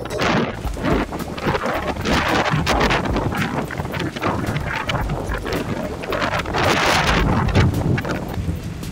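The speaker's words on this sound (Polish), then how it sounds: "wiało mocniej niż zapowiadano, powyżej 30 knotów" Strong wind over 30 knots at sea, recorded from a sailboat heading back to a marina in the Netherlands, roars steadily and loudly throughout, with gusty buffeting against the microphone and no voices.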